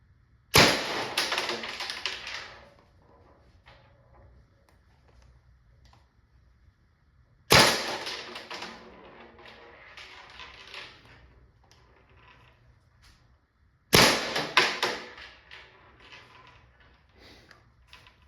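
LL4D MCS 468 paintball marker firing 3.2-gram MCS Kinetics rounds over a chronograph: three sharp, loud shots spaced several seconds apart, each followed by a short decaying clatter.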